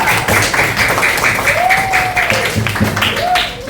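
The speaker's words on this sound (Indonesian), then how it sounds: "berikan tepuk tangan untuk perwakilan kelompok 3" Classroom of students clapping for a group's representative, a loud, brisk burst of many hands with a few voices and a whistle-like tone rising briefly over it.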